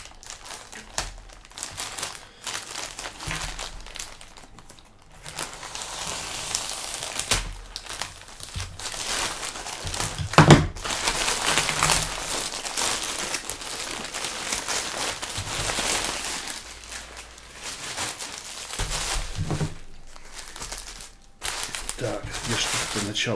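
Plastic packaging bag crinkling and rustling while being unpacked, one bag inside another, with intermittent crackly bursts and handling noise under a man's occasional speech.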